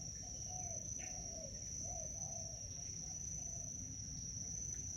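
Birds call and warble over a steady chorus of chirping insects outdoors in Ubud, Bali, their short phrases rising and falling at moderate distance.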